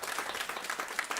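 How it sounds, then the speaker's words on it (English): Conference audience clapping for panelists at a climate action event on food waste, a steady, moderately loud patter of many hands with no voices over it. "Round of applause."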